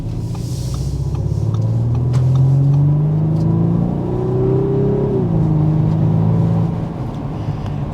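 A 2024 Audi A5 Sportback accelerating up to 55 mph, its engine note climbing steadily over a constant road rumble and tire whir heard from inside the cabin, with a brief dip before settling at cruising speed.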